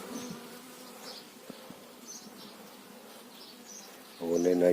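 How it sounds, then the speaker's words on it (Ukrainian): Honeybees buzzing around a swarm that has just been collected, with a piece of comb hung nearby; a steady, dense hum of many bees fills the air, with individual bees droning past close by and a louder buzz rising near the end. "а все одно на стовбурок якісь бжолки сідали"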